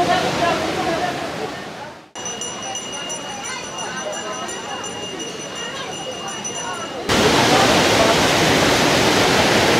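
The Panchalingeshwar waterfall near Balasore, Odisha, roars close by in a steady, dense rush of water, growing louder and fuller toward the end.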